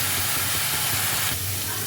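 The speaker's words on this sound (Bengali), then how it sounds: "মশলাটাকে ভালোভাবে তেলের মধ্যে ভেজে নিতে হবে" Spice paste for navratan korma sizzles in hot oil in a pan, a steady close hissing fry that holds evenly throughout and eases slightly near the end.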